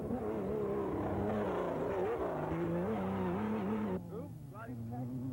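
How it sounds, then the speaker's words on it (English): A Raceco Porsche off-road race car in desert racing drives past, its engine note rising and falling before fading as it goes by, under a commentator talking. "That's Danny Lentner and Henry Bergdahl in the Raceco Porsche. And listen to this baby fly on by"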